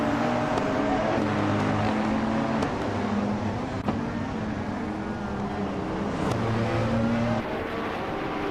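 A racing car's engine accelerates in a racing video game, a loud steady drone whose pitch climbs and drops with each gear change, with short pauses between pulls.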